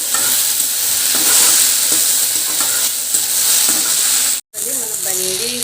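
Okra (bhindi, bendakaya) frying in a pan with lemon, a steady close sizzle with stirring scrapes, briefly cut off near the end before the sizzle resumes.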